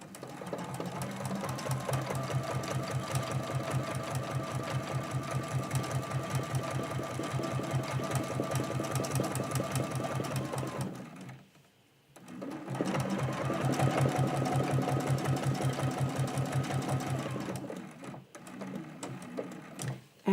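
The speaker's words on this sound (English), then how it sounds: "that's why I love doing free motion stitching" A sewing machine runs fast and steady during free motion stitching on a quilt block, its rapid needle chatter continuing for about ten seconds, pausing briefly, then resuming for several more seconds.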